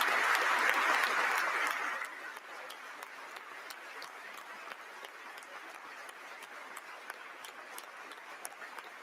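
Audience at the Iowa Condition of the State address applauding: a dense wash of clapping that swells loud for about two seconds, then tapers to a quieter, thinner patter with a few distinct claps, heard from a distance in a large hall.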